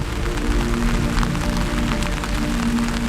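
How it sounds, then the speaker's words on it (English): Heavy rain pours down during an outdoor night film shoot, a dense, loud, steady hiss and patter that fills the whole stretch, with no voices. "at this point, the rain had picked up a lot"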